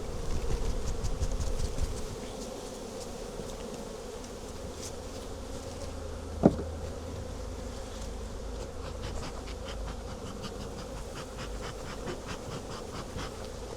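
Honeybees buzzing from an opened overwintering hive, a dense continuous hum that stays steady and close, with a brief sharp knock partway through.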